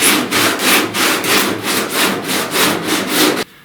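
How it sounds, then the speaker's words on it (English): Hand sanding scrapes body filler on a truck cab corner in steady back-and-forth strokes, about eight close, loud passes before stopping. "Be careful about sanding like this."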